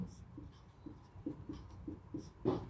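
Pen or pencil writing out a math equation by hand on paper, with a steady series of short scratchy strokes close up and a soft voice faintly in the background.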